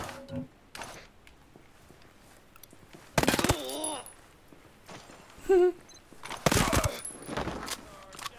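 Gunfire in Ghost Recon Breakpoint, loud bursts of automatic shots that break out in short volleys between quieter stretches, with brief voice sounds and other game noises in the gaps.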